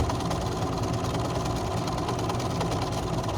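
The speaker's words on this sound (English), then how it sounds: "So I'm sewing up that last side on here." A sewing machine runs continuously while stitching the last side of a fabric bucket lining, a steady dense mechanical whir with fast rhythmic needle clatter, close and unbroken throughout.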